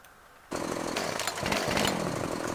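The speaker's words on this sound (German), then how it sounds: "Lieber eine Stielkettensäge." A pole chainsaw fells a tree in Farming Simulator 15, its engine snarling loud and steady from a sudden start, running continuously without pause.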